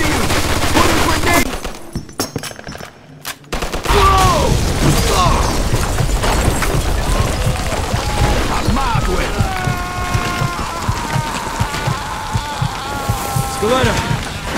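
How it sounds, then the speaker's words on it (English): A machine gun fires in the video game Mafia 2, with sustained rapid bursts and mechanical clatter, plus a short dropout near the start. Game characters talk over the firing. "Looks like we found the machine gun."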